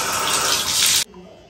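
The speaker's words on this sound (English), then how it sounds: "So let me just fill the water." Water gushes loudly and steadily from a tap into a bathtub being filled for a bubble bath, then the flow cuts off abruptly, leaving only quiet room tone.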